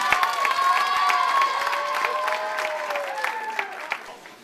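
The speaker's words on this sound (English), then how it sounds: "Give them some applause before I even introduce them" Audience applause and cheering for panelists at a champions breakfast event, many hands clapping with whoops and high voices over it, loud and sustained, fading toward the end.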